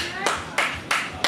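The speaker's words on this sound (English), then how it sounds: "Why are you clapping?" Four slow, evenly spaced hand claps ring out sharply and close by, each decaying briefly before the next.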